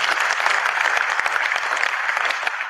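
Dense, continuous applause from a conference audience, loud and even from start to finish with no voice standing out.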